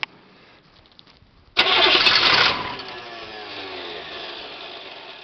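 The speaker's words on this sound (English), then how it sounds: "Starter sounds good." A brief starter crank is followed by the engine catching abruptly with a loud burst, then settling into a steady, quieter idle, heard close up with no talk.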